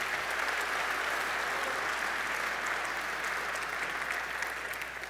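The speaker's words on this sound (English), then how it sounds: "please a round of applause for our sponsors this year" A conference crowd gives a sustained round of applause for the event sponsors, an even wash of clapping from a large room heard at moderate distance.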